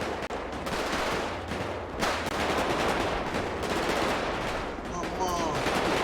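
Rapid bursts of automatic gunfire crackle through a military convoy scene in a video game roleplay, with several volleys in close succession over a steady rumble and a brief pause near the middle.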